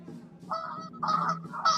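Ducks call outdoors in a short run of loud, nasal honking quacks, three bursts within a couple of seconds, fairly close with no talking.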